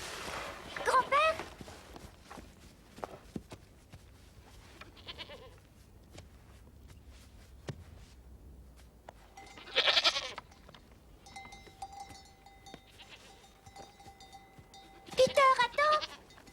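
Goats bleat in short loud bursts near the start, around the middle and again at the end, driven along by a herder in an animated mountain scene, with quieter bells and movement between the calls.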